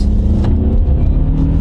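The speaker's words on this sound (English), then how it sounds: "We'll give it a little gas." A Honda car engine accelerates as the driver applies gas, a steady loud low rumble that builds slightly, heard from inside the car with no talking.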